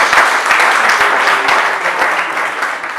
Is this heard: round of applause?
yes